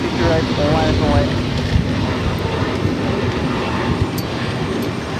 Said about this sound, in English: 227 taking off to Bogota on the A320neo